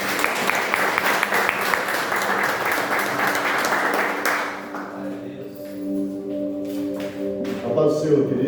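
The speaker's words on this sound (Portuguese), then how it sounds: "Aplauda o Senhor mais uma vez" A church congregation claps in a dense, sustained round of applause for about four seconds, then it fades as a voice speaks over a soft held keyboard chord.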